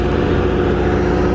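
A garbage truck picking up trash: a loud, steady engine rumble with a dense low drone that does not let up, heard close by with no speech.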